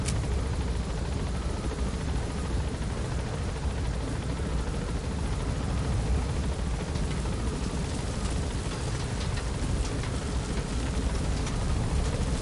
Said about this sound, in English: It is so noisy in this helicopter.